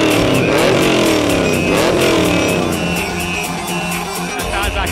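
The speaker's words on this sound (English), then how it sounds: "Just hear what a V8 supercar sounds like." A V8 supercar engine roars and revs up and down nearby, a loud, gritty growl with rising and falling pitch sweeps.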